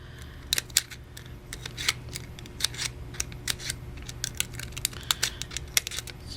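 Sharp, irregular snips of scissors cutting slits about half an inch apart in paper, many quick cuts in an uneven rhythm over a low steady hum.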